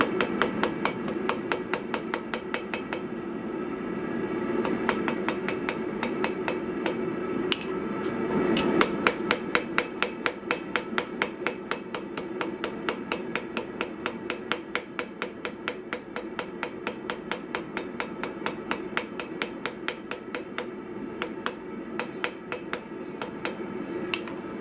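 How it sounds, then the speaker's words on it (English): Hot wrought iron is forged under a hammer, struck in a long, steady run of sharp, ringing blows at a brisk even rhythm, close and loud with no talk. "This is how you know you're forging wrought iron hot enough."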